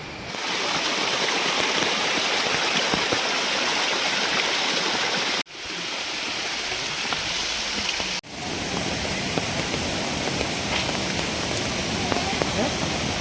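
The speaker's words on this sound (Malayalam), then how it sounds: "താഴേക്ക് പതിക്കുമ്പോൾ ഒരു വെള്ളച്ചാട്ടമായിട്ട് മാറുന്നു" A steady, loud roar of rushing water pours continuously over rocks at Aanachadikuthu waterfall near Thodupuzha, broken by two brief cuts.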